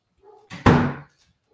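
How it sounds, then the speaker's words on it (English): A door is pushed shut with a single solid thud and brief rattle, close by and fairly loud, with faint speech just before it in an otherwise quiet room. "Sorry, here, I got to close this door."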